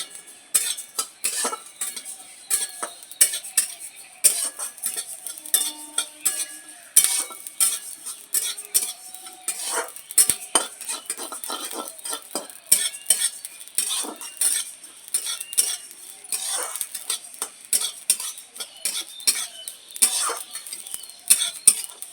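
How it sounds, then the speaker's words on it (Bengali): Whole fennel and coriander seeds dry-frying in a pan for pickle masala, with rapid clinking and scraping of a metal spoon stirring them, close and busy throughout, no talk. "এক চামচ মৌরি চামচ গোটা ধনে মশলাগুলো এখন আমি সব ভেজে নেব"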